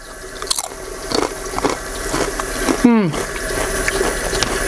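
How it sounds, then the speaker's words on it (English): Someone bites into crispy potato skins cooked over a camp stove outdoors. There are a few crunchy, squishy chewing sounds up close, one sharp crackling bite stands out, and soft background noise runs underneath. "I just wanted to show you some of these delicious little potato skins. Take a listen."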